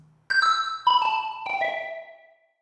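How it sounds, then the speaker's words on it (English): Three bell tones from a music track struck one after another, each a clear bright ring with shimmering overtones that glides slightly downward and fades into a short tail, preceded by a faint low hum. "I have through and through the track some bells playing"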